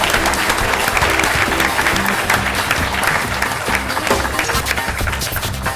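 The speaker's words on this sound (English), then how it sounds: "A round of applause, everyone, please." Loud, sustained applause from a crowd at a PAX 2012 game show, dense clapping continuing steadily throughout.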